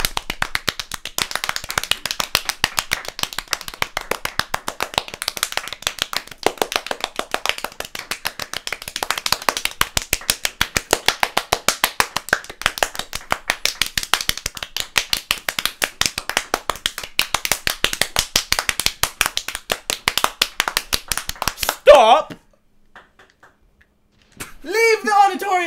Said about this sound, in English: If you'll prepare for the round of applause by raising your hands